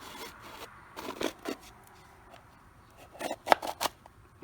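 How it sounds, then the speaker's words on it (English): A box cutter slides under old, stuck-on door weather stripping, giving a few short, close scraping and cutting bursts in two clusters, with quiet pauses between. "I'm just having a little box cutter and kind of sliding it underneath so I can release all that"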